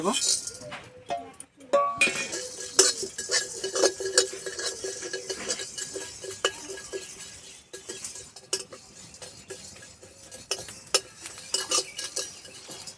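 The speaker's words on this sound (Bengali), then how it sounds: "কড়াই আমি গোটা মশলা ভেজে নেব তার মধ্যে নিয়েছি গোটা ধনে গোটা জিরে গোটা মৌরি দুটো শুকনো লঙ্কা গোটা গরম মশলা সব একসঙ্গে ভেজে" Whole coriander, cumin, fennel seeds, two dried red chillies and whole garam masala dry-roasting together in a wok, with repeated scraping and clinking as a spatula stirs them, a steady close rattle throughout.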